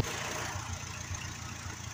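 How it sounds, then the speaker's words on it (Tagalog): A car engine runs at a steady idle just after starting, with the cooling system freshly refilled with water or coolant; a low, even rumble carries on unbroken and close, with no talking over it. "Ngayon pinapaandar po natin yung ating makina."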